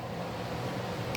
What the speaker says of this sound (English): And my furnace kicked on.